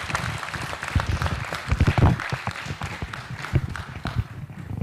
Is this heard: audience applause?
yes